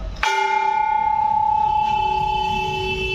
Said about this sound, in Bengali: এখন 1টা বাজে, তাই 1টা ঘন্টা মারা হলো।